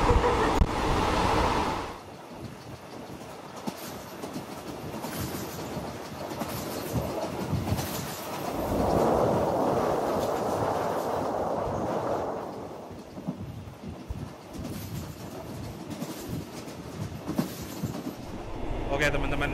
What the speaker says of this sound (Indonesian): perjalanan kereta yang saya naiki sudah berangkat ya dari stasiun Padang Besar